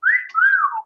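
A person whistles in imitation of a pet bird, two close, bright sliding notes, the first rising and the second falling away, clear and alone.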